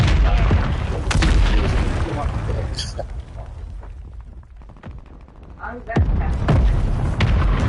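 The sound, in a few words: enemy bomb explosion in Warzone video game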